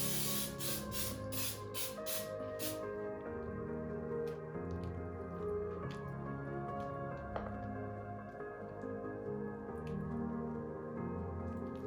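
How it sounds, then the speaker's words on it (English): Baking spray with flour hisses into a loaf pan in a few short bursts over the first three seconds, then kitchen ambience with faint clinks continues with no talk. "I'm gonna give it a spray with this baking spray with flour so that it'll come out easily."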